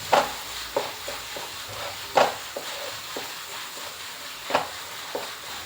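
Spatula stirring chicken kurma with turmeric powder in a pan, a few distinct scrapes and taps over a soft sizzle, close and moderately loud, no talking.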